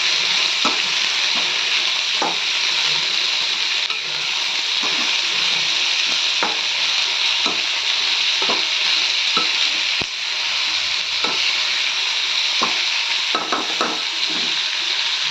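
Onions fry vigorously in a pan for an old-style fenugreek curry, a steady loud sizzle punctuated by regular scraping strokes of a stirring spoon.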